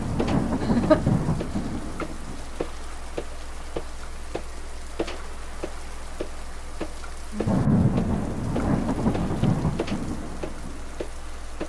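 Steady rain patters with sharp drips and clicks, as deep rumbling thunder rolls at the start and again near the end.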